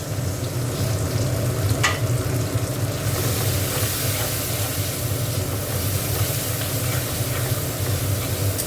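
Bhola fish curry with turmeric, chilli powder and a splash of water sizzling in a pan, a loud continuous frying hiss and crackle, close up, intensifying after a few seconds, with no talking.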